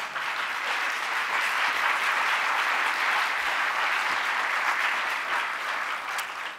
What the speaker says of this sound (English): I would also like to add my applause for Ola